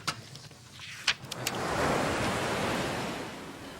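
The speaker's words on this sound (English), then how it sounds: "It's a white noise machine. Soothing electronic noise will help you relax." A white noise machine gives off a broad, steady soothing hiss that swells in and holds evenly, with a few faint clicks and knocks just before it starts.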